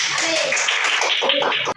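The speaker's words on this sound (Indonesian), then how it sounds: "Tepuk tangan untuk kita semua." A classroom of students and teacher clapping together in a brief, dense burst of hand claps with some voices mixed in, close and fairly loud, stopping abruptly near the end.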